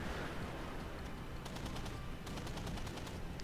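Anti-aircraft guns on the battleship USS New York in World of Warships, firing in rapid, evenly spaced bursts that sound faint and distant against a dense, constant rumble of ship and battle noise.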